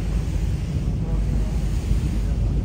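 A small boat crosses the sea from Capri to Naples, with a steady rush of wind and water wash loud and close against the microphone throughout.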